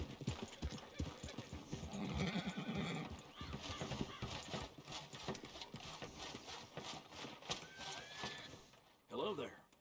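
A horse in Red Dead Redemption 2 whinnies and its hooves clop steadily, with a rising neigh near the end, under game music and ambient noise while characters talk.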